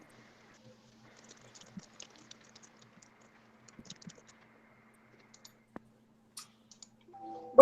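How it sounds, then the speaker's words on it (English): Scattered, sparse key clicks from computer keyboards tap irregularly in a quiet room, faint and intermittent, ending with a louder brief noise. "I know we're all just typing away right now"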